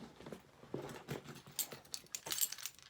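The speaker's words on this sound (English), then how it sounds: "My car keys and house keys." Faint, scattered metallic jingling and clinking of car keys and house keys in short irregular bursts, close by, with light rustling between them.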